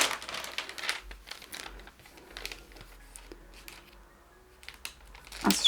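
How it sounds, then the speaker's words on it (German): Sturdy plastic film from a diamond painting kit being handled, giving scattered close crinkles and crackles in short bursts, fairly quiet, with no talk. "Die Folie ist eine schöne feste Folie."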